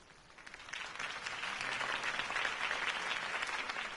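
Applause from a crowd after a campaign speech swells into steady, dense clapping that holds for a few seconds. It sounds moderately distant, with no talk over it.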